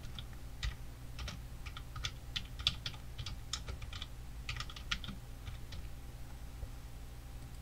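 Keystrokes on a computer keyboard as a file name is typed, irregular bursts of clicks spread across several seconds, close and fairly quiet over a low steady hum, with no voice.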